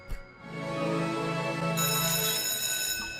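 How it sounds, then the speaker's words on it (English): Bell sound effect used as a gargoyle's roar in a show, a sustained ringing bell tone with rich harmonics after a short knock, holding steady before fading near the end. "Instead of like a roar, it's like a bell noise"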